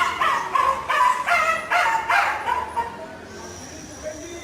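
A puppy stuck near an open window barks and whimpers in a string of short yips and whines over the first three seconds, fairly close, with people talking.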